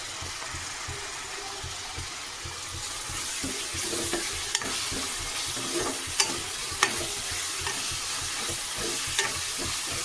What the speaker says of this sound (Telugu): కొంచెం ఫ్రై అవ్వాలి. కరివేపాకు అయితే వేసుకోండి.